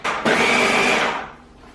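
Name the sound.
food processor pulsing cannoli bite mixture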